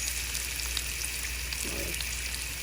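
Food frying in a pot on a gas stove, a steady crackling sizzle over a low burner hum, with a faint stir near the end, quiet and unvoiced.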